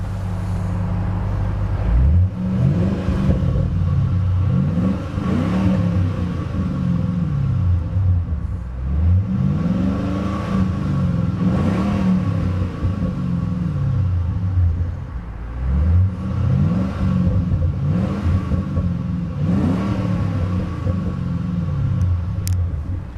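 A 2008 Ford Mustang GT California Special V8 rumbles loudly and close, its exhaust swelling through several repeated revs that rise and fall over a steady deep idle.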